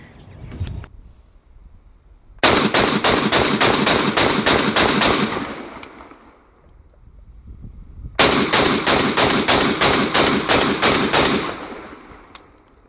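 RWMD LE AR-15 rifle firing two long rapid strings of shots, loud and close, each burst a fast even run of sharp reports followed by a fading echo and quiet pause.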